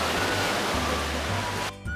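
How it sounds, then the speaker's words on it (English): Strong ocean surf at Waikiki Beach in Hawaii, a loud continuous wash of breaking waves that briefly drops away near the end. "The waves were pretty strong, lots of people were surfing, and that's typical for Hawaii."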